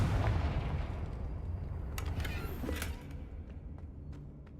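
Confringo fire spell blasts in Hogwarts Legacy: a loud, rumbling burst opens, followed by a few sharp cracking pops over a dense roar that gradually fades, with no talking.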